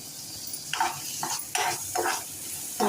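Chopped tomato sautéed with onion in a pan for vari rice upma: a soft sizzle under intermittent scraping strokes of a spoon against the pan, fairly close.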